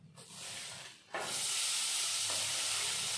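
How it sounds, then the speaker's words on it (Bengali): Cashews, raisins and rice frying in a pan over low flame, a loud steady sizzle that surges sharply about a second in as more goes into the hot fat, then holds at full hiss. "লো ফ্লেমে এভাবে ভাজতে ভাজতে যখন দেখবো চালের রংটা এরকম সাদাটে হয়ে এসেছে"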